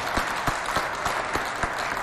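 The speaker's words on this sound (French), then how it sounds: "Applaudissez au moins quand même" Applause from a crowd, dense clapping with several sharper individual claps standing out, steady and moderately loud throughout.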